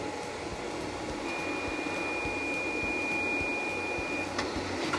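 Coffee pod packaging machine starting up, a steady loud mechanical hum and whir with a thin high whine that rises partway through, plus a few faint clicks.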